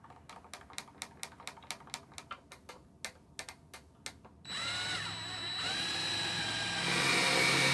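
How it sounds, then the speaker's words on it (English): A power drill boring pilot holes for the screws that mount RV table legs; about four seconds of rapid clicking taps, then a loud, steady whirring drill run that builds slightly toward the end, close by with no talk. "drilling a pilot hole that is just smaller than the shank of the screws that are included with the legs"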